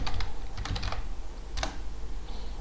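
Keys on a computer keyboard are struck in a short cluster of close clicks, a pause, a single sharp tap, then quiet, with no talk.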